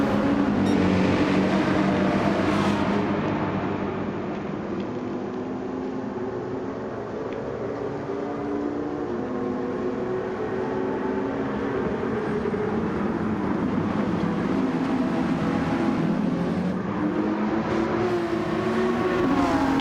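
Honda NSX race car in a racing video game, engines roaring at the race start with repeated revving and gear-change surges, a dense, continuous loud engine drone lasting throughout.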